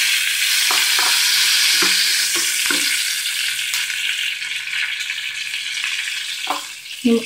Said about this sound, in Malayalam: രണ്ട് സ്പൂൺ എണ്ണ ഒഴിച്ചു അതിലേക്ക് രണ്ട് വറ്റൽ മുളകിടാം